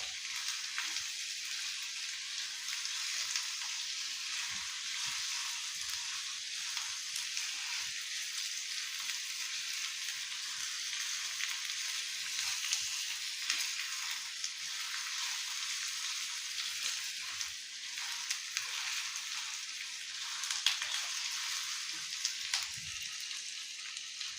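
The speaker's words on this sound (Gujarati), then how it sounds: "આ રીતે આપણે પાંચેક મિનિટ સુધી પકાવવાનો છે મસાલો" Masala for rajma curry frying in a hot pan, a steady close crackling sizzle with faint stirring clicks running evenly throughout, no voices.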